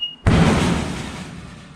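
A 1955 Chevy's trunk lid slams onto a rubber bump stop in a single heavy slam with a dull, rubbery thud, followed by a brief fading rumble.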